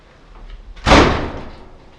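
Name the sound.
door being closed on a parts hauler vehicle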